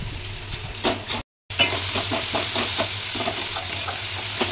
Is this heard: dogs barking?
no